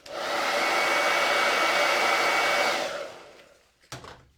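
A handheld craft dryer blows steadily and loudly for about three seconds while drying a layer of paint on a gnome Christmas countdown piece, then winds down and is set aside with a few light knocks.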